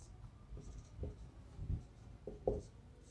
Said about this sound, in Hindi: इसका हिंदी भी मैं आप लोगों को लिख दे रहा हूँ